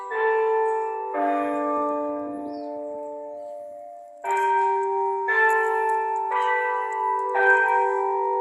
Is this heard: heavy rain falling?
no